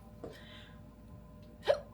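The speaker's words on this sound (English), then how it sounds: "sorry, I got hiccups again" A person hiccups twice, a short sharp catch near 0.25 seconds and a louder one near 1.7 seconds, close and otherwise quiet.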